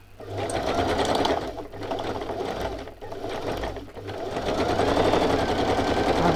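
Sewing machine stitching an image down onto fabric for a mixed-media textile piece, a steady close mechanical whirr running almost throughout with brief pauses near 1.7, 3 and 4 seconds.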